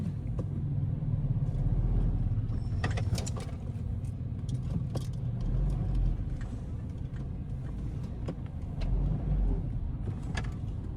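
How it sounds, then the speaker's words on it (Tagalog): Steady road traffic on a busy city street at rush hour, a continuous low engine rumble from cars idling and passing nearby, with brief faint clatter on top and no clear talk. "Medyo matraffic na ganitong oras kasi uwi na."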